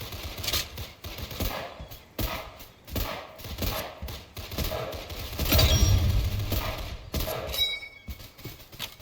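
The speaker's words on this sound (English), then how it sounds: "I'm sniping people with this gun" Rapid bursts of sniper rifle fire in a Roblox gun game crack out in dense, repeated volleys, loud and close, with a heavier cluster of shots midway and brief pauses between bursts.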